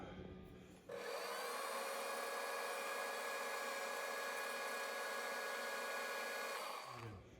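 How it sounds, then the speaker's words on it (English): Metal lathe parting off a brass oiler part for an engine, giving a steady loud machining whine with a bright cutting hiss that starts abruptly after a second, runs for about six seconds and stops. "So now I gotta part that off"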